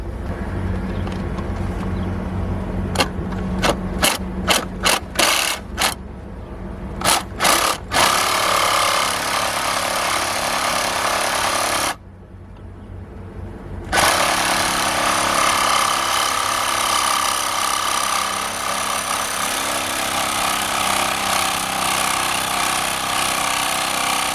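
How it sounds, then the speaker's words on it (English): A Milwaukee M18 Sawzall reciprocating saw cuts with a loud, continuous rasping buzz. A few sharp clicks come first, and the cut pauses briefly near the end before the saw starts up again. "I'm gonna use my Milwaukee M18 sawzall"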